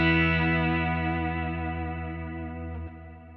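A guitar played through a multi-effects unit set to a cathedral reverb rings out as a rich sustained chord, slowly fading in a long smooth decay, with a slight step down near the end.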